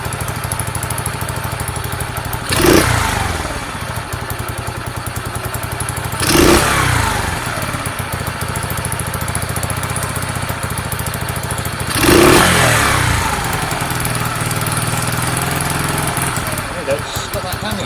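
A Sinnis SC125 motorcycle engine idling with a steady rough drone, blipped at quarter throttle three times, each rev rising briefly then hanging slowly back down.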